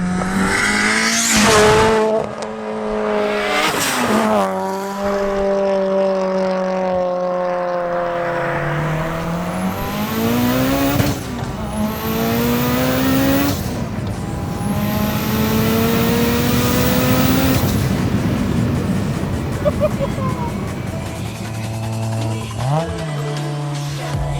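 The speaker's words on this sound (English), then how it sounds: "This is an 800 wheel horsepower Evo 8." An 800 wheel horsepower Mitsubishi Evo 8 revs and accelerates hard, its loud engine climbing through several gear changes with turbo whooshes and popping between shifts, close and sustained with no speech.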